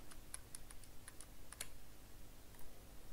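Quiet, crisp clicks come from keys pressed on a computer keyboard in a short irregular series, with a tight cluster of taps in the middle and a final lone click.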